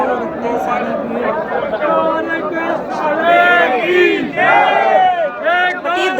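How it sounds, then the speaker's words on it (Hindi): A large, dense crowd of pilgrims at the Khatu Shyam temple, loud overlapping voices calling and chanting nearby, with rising shouts and constant babble. "यहाँ पे देख सकते हैं आप कितनी ज़्यादा भीड़ है"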